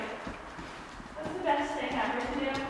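A horse being walked around gives a few hollow hoof clops at a slow pace, partly under people talking nearby.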